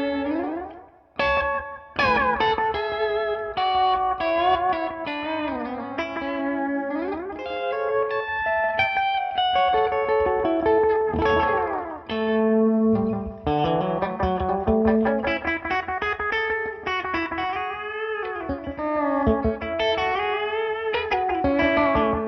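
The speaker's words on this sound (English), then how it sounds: "I'm going to add a little bit of reverb back and a little bit of delay" Clean electric guitar through a Fryette Memphis 30 clean channel, played alone with reverb and delay, bright sustained chords and melodic lines ringing with echoing tails and a shimmering, spacious wash.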